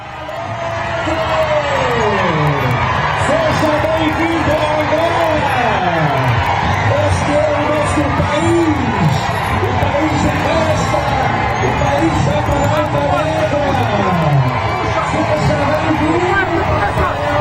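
A street crowd cheers, whoops and shouts with music as the Pope's car passes through Angola, a loud, continuous mass of voices and whistles from many people close by.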